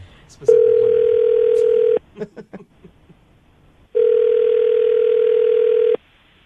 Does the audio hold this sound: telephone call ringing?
yes